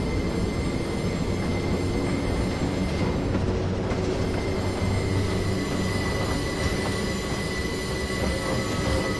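A Class 33 locomotive's wheels squeal loudly and continuously against the rails on the Portsmouth Direct Line in Train Simulator 2015, a sustained metallic shriek over a dense, rumbling rail roar.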